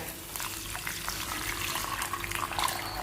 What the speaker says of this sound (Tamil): அப்ராக்சிமேட்டா 3 டம்ளர்ஸ் நம்ம வாட்டர் ஆட் பண்ணிட்டோம்.